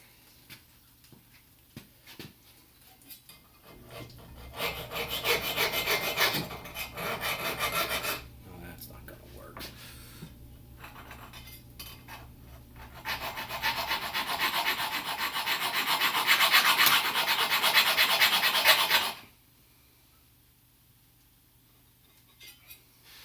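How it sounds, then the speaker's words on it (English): Hacksaw cutting through parts while a DeWalt 788 scroll saw is torn apart, two sustained bursts of raspy back-and-forth sawing, close and fairly loud, separated by quieter handling noises and ending abruptly. "Hacksaw."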